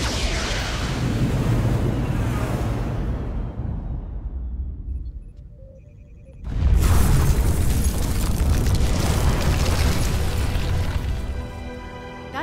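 Weapons fire in the Star Trek Resurgence video game, a starship attacking another ship: loud booming blasts with a roaring rush, fading into a near-quiet gap, then erupting again into a sustained heavy rumble.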